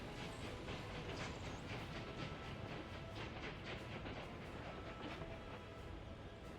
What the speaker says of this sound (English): I've got our first train out.